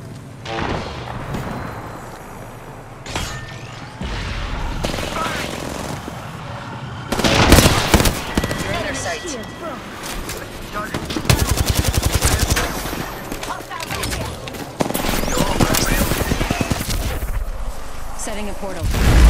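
Heavy gunfire in the video game Apex Legends: loud, continuous automatic bursts and shots that grow more intense partway through, with booms and voices mixed in throughout.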